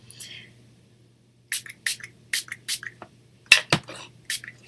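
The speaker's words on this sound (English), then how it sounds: "we're going to grab a water bottle and just lightly spritz this" A handheld water spray bottle lightly mists an inked paper tag in a series of short, crisp hissing spritzes, close up, coming in quick bursts after a quiet pause.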